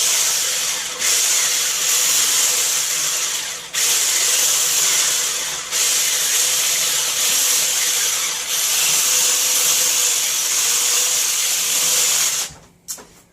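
Pumpkin bread batter for a cream cheese keto loaf being whisked in a bowl with an electric mixer, a steady loud whirring drone that runs almost nonstop with a few brief pauses before cutting off near the end.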